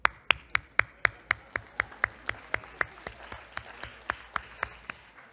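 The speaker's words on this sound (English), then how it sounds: "So I think everyone deserves a round of applause." Evenly spaced, crisp claps repeat about four times a second at a research summit session, each a distinct sharp hit that rings out against a quiet room and softens slightly toward the end.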